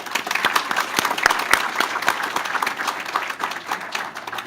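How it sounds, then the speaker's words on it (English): Graduation ceremony audience applauding steadily, many hands clapping in a dense patter from a moderate distance, fairly quiet throughout. "Graduates, please join me in showing appreciation for all of their support by giving them a round of applause."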